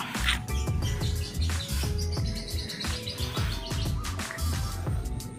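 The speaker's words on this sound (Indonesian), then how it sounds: "Tuh masih bisa dengar suara burung, suara air gemericik dari kali kecil di sebelah gue." Birds chirp and tweet repeatedly over a steady background; a soft trickle of water from a small stream may be there but is hard to pick out from the song.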